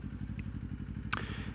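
A Kawasaki Ninja 500 motorcycle engine rumbles steadily with a low, pulsing beat, with a couple of brief clicks and a short scrape over it.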